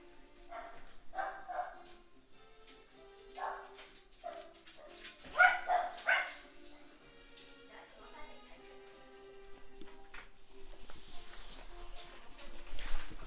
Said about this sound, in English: my dogs are about to bark.